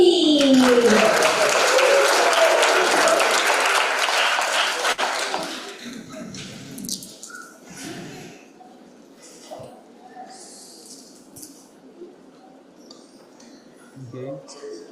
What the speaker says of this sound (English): Give a round of applause to Mr.